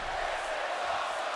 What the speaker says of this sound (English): You can hear the crowd chanting,